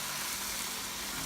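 Mixed vegetables sautéing in a pan with wine for a stir fry, a soft continuous sizzle heard alone at a distance.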